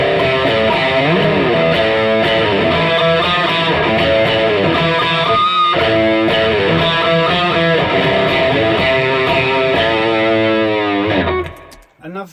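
An electric guitar runs through a pedalboard drive, playing heavy, saturated, distorted chords that ring loud and steady for about eleven seconds before cutting off abruptly.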